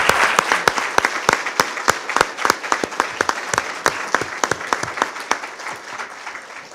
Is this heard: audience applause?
yes